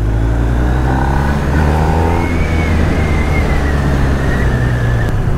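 A BMW R1250R twin-cylinder motorcycle rumbles loudly and continuously while being ridden, a heavy engine drone mixed with rushing wind. A brief rising rev comes partway through, with no talking.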